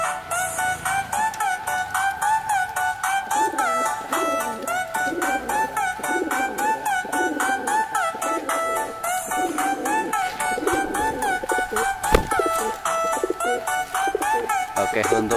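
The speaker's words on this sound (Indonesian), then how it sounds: "merpati ini ya, yang sering buat kolongan ini ya" Pigeons cooing in steady repeated low pulses, many close birds calling in a regular rhythm, overlaid by loud high ringing tones throughout.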